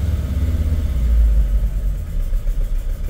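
A Sprinter van diesel engine, with a leaking injector now repaired, idles close by at operating temperature in a low steady rumble that sags slightly as the idle drops.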